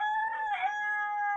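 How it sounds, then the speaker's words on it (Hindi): A rooster crowing in a backyard poultry flock, one sustained, clear, tonal cock-a-doodle-doo held for well over a second, close and loud with no other sound. "ये ऐसे ही करता है जैसे ही बोलता है ना, फिर सारे मुर्गे बोलना शुरू कर देते हैं।"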